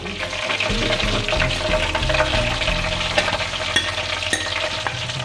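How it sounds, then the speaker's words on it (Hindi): Chicken pieces deep frying in hot oil for a Pakistani fried chicken recipe, a steady loud sizzle and bubbling throughout with occasional stirring clinks and scrapes. "अभी फ्राई हो रहे हैं"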